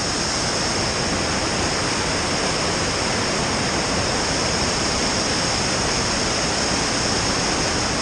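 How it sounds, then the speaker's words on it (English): A large waterfall in Kosciuszko National Park, Australia, roars in a steady, dense rush of water, loud and unbroken throughout, with no voices over it. "Check out this waterfall."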